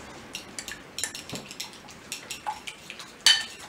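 A fork whisks a seasoned mixture of salt and black pepper in a bowl, producing a run of quick, light clinks and scrapes with a brief louder rattle near the end.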